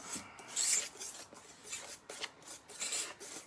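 A whisk scraping and rubbing against the sides of a bowl while mixing chocoflan ingredients, a soft rapid rasping in uneven strokes, close and fairly quiet with no talk.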